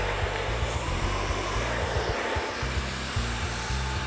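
A hair dryer roars continuously at close range as hair is blow-dried smooth and straight, its steady airflow shifting slightly as it moves, with no talk over it.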